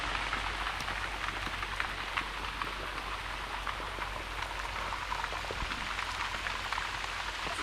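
Heavy rain pours down steadily on a lakeshore under willow trees, a dense hiss of countless drops drumming on surfaces nearby, continuous and unbroken with no voices.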